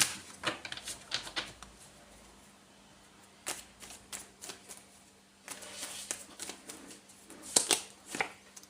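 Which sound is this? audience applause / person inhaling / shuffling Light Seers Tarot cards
shuffling Light Seers Tarot cards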